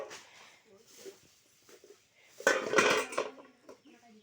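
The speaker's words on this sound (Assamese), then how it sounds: "এই দুখন কেৰাহী আনিছে" Two metal kadai woks are handled at close range, giving a brief burst of clanking, rattling metal in the second half after quieter stretches. A person talks before the clanking starts.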